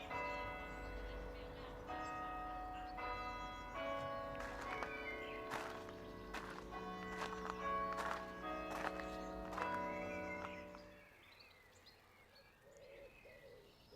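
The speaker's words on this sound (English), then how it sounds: "Oh, you can hear the bells. It's actually 6 o'clock." Dunster church bells in Somerset ring out at six o'clock, a run of clear, resonant strikes carrying over the village for several seconds before fading, with birdsong and outdoor ambience around them.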